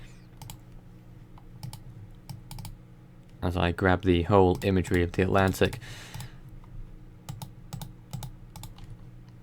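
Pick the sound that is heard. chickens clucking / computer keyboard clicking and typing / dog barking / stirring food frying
computer keyboard clicking and typing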